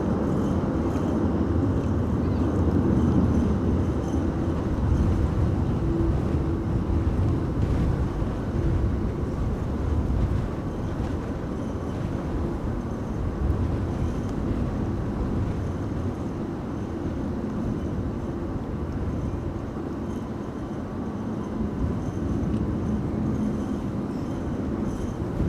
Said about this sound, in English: Next up is KLM flight 1902 arriving from Vienna. That's a 737-800.